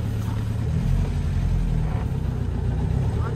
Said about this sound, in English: I need to get out of this spot, so I'll first engage reverse and see how it goes.